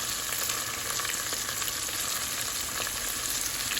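Dried red chilies and curry leaves frying in a pan for bread chili, a dense continuous sizzle with faint stirring scrapes, steady and fairly loud throughout, no voices.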